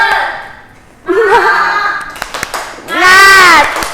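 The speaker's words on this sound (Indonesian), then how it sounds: "Coba tepuk semangat dulu ya." Young children in a classroom perform the 'tepuk semangat' routine, chanting loudly together with bursts of sharp rhythmic hand claps in short, close, energetic phrases.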